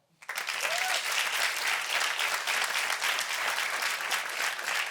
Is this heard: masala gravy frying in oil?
no